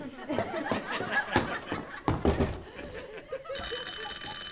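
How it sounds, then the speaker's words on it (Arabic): An apartment doorbell rings out loudly and continuously over the final second, following laughter and lively chatter in a home. "وبعدين في الجرس ده بقى النهارده"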